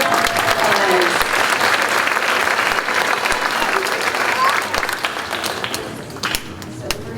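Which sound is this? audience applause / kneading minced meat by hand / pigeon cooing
audience applause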